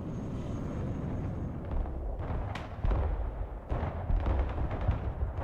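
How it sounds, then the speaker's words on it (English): Rocket artillery firing in the video game Broken Arrow, a dense, rumbling barrage of launches and distant booms that builds into heavier blasts, continuous and fairly loud, with no talking. "Rocket artillery at your order, sir."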